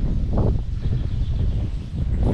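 Strong wind blows outdoors beside a swimming pool under a dark sky, a loud, continuous low buffeting rumble with no voices.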